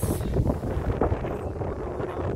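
Steady wind buffets the microphone in low, rumbling gusts, with no talk.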